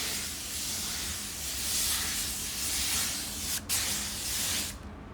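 A spray gun lays down automotive clear coat on a car panel, a steady close hissing spray in sustained passes with one brief interruption near the end before it cuts off.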